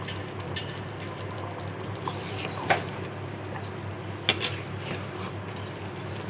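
A spoon stirs vegetable khichuri with ghee in a cooking pot, giving a low, steady background with a few scattered metallic clinks and scrapes.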